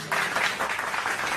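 An audience at a Hindi kavi sammelan poetry gathering applauds as poet Dr. Govind Gajab of Raebareli is called up, a short burst of dense clapping with no voices over it.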